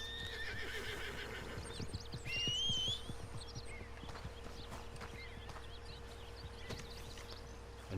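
Horse whinny in the game Red Dead Redemption 2, heard alongside steady clip-clop hoofbeats over an outdoor ambience with birds, the neigh swelling briefly in the middle before hooves continue.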